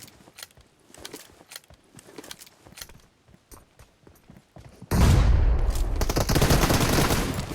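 Rapid gunfire bursts crackle through a PUBG Mobile match, short clustered shots at first, then a sudden loud, sustained barrage of automatic fire dominates the second half.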